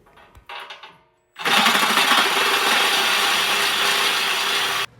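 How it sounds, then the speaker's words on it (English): Milwaukee saber saw fitted with carbide-tooth blades cutting into a rear car-frame crossmember; a loud, steady buzzing cut runs nearly four seconds after a short burst of handling noise and a brief pause. "I've got this brand new Milwaukee saber saw with the blades that have carbide teeth"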